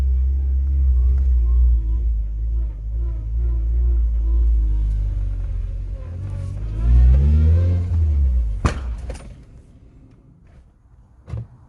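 A turbocharged Suzuki Swift ZC31S engine drones and climbs under boost, then surges and abruptly cuts out, followed by a couple of sharp clunks and near quiet.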